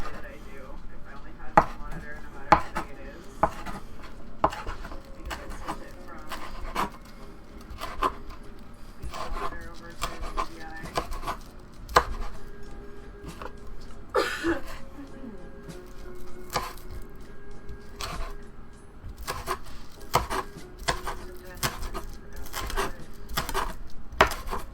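Garlic is chopped with a knife in a home kitchen as a Mexican lasagna is prepared, giving irregular, sharp knife taps on a cutting board close to the listener, with quiet background room sound between the strikes.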